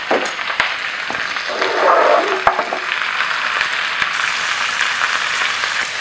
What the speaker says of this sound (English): And I'm going to stir fry these guys.